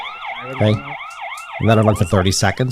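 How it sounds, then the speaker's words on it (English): A COCOCAM 2K indoor pan-tilt security camera sounds its built-in siren, a loud wailing electronic tone that sweeps up and down repeatedly, then shifts to a harsher rapid pattern while someone speaks briefly over it. "Here is the siren. You can just turn that on."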